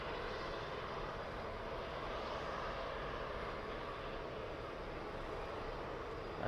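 Airliner on final approach at Birmingham Airport, a steady broad engine rumble heard from a distance, continuous and fairly faint throughout.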